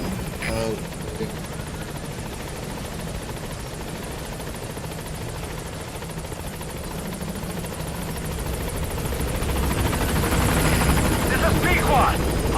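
In Metal Gear Solid V, a helicopter comes in to land at a landing zone, its rotor thrumming steadily and growing louder and closer toward the end. A radio voice speaks over the rotor near the start.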